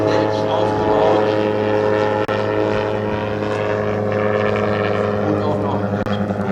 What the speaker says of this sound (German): dieses Flugzeug hat Helmut komplett konstruiert, selbst aufgebaut